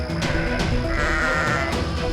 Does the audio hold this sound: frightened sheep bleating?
yes